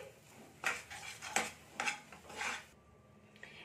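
Green peas being stirred with spices in a pan for korai shutir paratha, a spatula scraping and clinking against metal in four or five distinct strokes, quiet and close, then a short pause.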